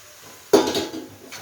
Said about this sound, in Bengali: এই পর্যায়ে আমি দিয়ে দেব ফুলকপিগুলো, ভেজে রাখা ফুলকপিগুলো।